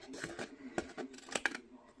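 Scissors snip along a traced line on paper card for a flower-bouquet greeting card, giving a few quiet, irregular close-up cuts and rustles of the card.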